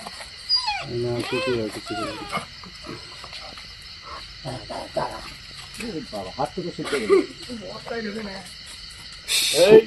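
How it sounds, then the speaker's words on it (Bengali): Several dogs bark and yelp agitatedly at a Russell's viper in uneven bursts while people shout and talk over them nearby. "এরা পুরো অ্যাগ্রেশন মুডে চলে এসছে তো সাপ দেখে।"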